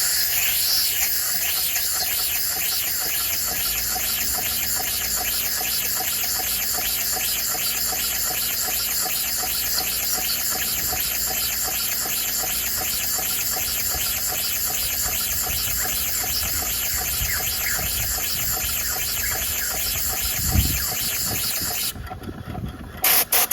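A homemade air-driven piston engine sealed with PTFE tape runs steadily, a loud continuous hiss of escaping air over a fast mechanical chuffing that fades near the end.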